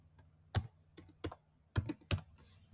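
Computer keyboard keys are struck close up in a sparse, irregular rhythm, a handful of sharp clacks separated by short pauses, with no voice present.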